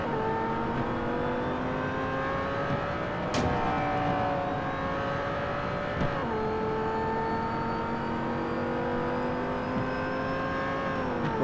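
A Corvette Stingray Z51 races in the video game Real Racing 3, its engine droning steadily at high revs, with brief dips at gear changes and no voices.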